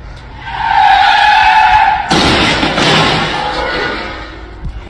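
Car skidding with a squeal of tires, then an abrupt loud crash impact followed by a settling rumble, close and sudden.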